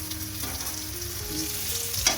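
Khichuri fries in a pan with a steady, loud sizzle throughout, a faint scrape of stirring near the end, no talking.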